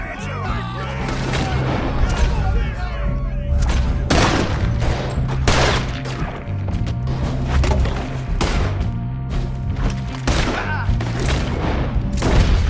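Rapid gunfire in Red Dead Redemption II, a dense fusillade of sharp cracks and booming shots repeating across the whole stretch, loud and close, with shouted voices mixed in.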